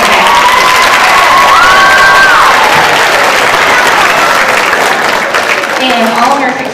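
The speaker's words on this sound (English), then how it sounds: "Round of applause for our percussionist in the back there." A loud, close burst of applause and cheering from a middle school band's winter concert audience for the percussionists. It is dense and continuous, with whistles and shouting children, and tapers slightly at the end.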